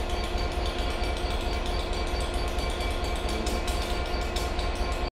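Express Pullman train with vintage carriages at Bath Spa station, a steady loud rumble and rolling clatter running continuously before cutting off abruptly at the end.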